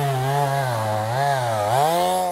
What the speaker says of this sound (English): And the chainsaw comes in.